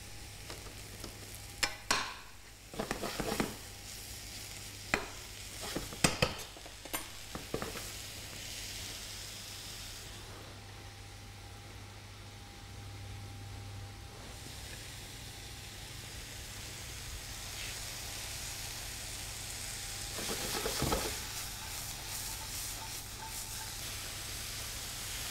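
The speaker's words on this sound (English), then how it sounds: "keep that pan moving either with a spoon, or you can give the pan a little toss as well" Mushrooms sautéing in a pan for risotto, stirred with a spoon and tossed: a quiet, steady sizzle with scraping stirs that bunch together near the start and again later.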